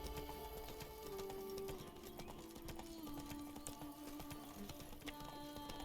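Horse hooves clip-clop steadily in The Witcher 3, a continuous rhythmic patter of footfalls over a dense game soundscape with music and ambience.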